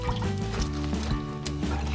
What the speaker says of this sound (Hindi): कम से कम 2 या 3 बार अच्छे से इस पानी में डिप करके अच्छे से इनको वॉश करेंगे